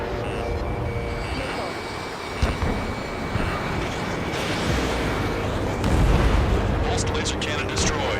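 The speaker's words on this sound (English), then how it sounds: "Pulsed laser cannon destroyed." In the Ace Combat 7 flight game, a pulsed laser cannon is destroyed amid deep booming explosions and rumbling jet noise, with a sharp blast partway through and a heavier roar near the end, under radio chatter.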